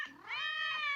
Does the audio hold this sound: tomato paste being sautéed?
no